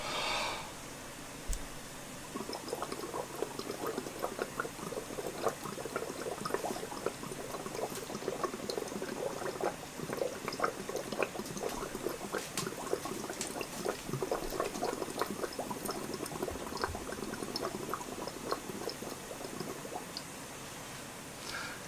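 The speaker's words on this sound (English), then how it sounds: "Lime water in here, And what I'm going to do is just blow in here very gently." Steady gentle bubbling as breath is blown softly through lime water in a GCSE chemistry test for carbon dioxide, a continuous soft gurgle and fizz lasting throughout, quiet and close.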